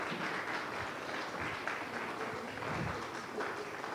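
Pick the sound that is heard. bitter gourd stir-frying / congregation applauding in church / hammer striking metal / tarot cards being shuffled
congregation applauding in church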